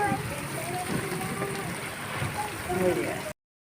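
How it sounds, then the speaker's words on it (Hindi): Heavy rain falling in a village with running water nearby, a steady splashing, gurgling wash heard close and fairly quiet, with a voice speaking over it before the sound cuts off. "बहुत ही ज़बरदस्त, बहुत ही मज़े की बारिश है"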